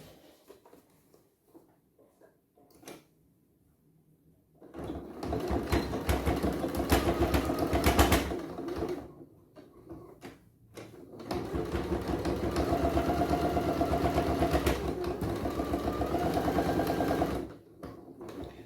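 A sewing machine stitches seams on a hand sanitiser pouch in two long steady runs of rapid mechanical chatter, close up, separated by a short pause and preceded by quiet handling.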